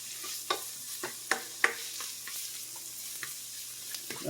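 Onions cook in extra virgin olive oil for a cauliflower stuffing, giving a steady close sizzle broken by intermittent scrapes and knocks of a stirring utensil, with no voices.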